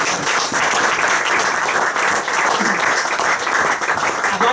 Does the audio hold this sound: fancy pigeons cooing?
no